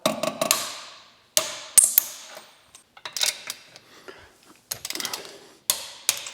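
A ratchet wrench on car lug nuts during wheel reinstallation on a Mitsubishi Evo, sharp clicking bursts and metallic clanks in separate clusters with brief quiet gaps, close and alone.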